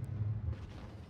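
Heavy low booming rumble from tank gunfire in World of Tanks Blitz, a big blast up front with a rolling echo trailing off, loud and dense like cannon shots.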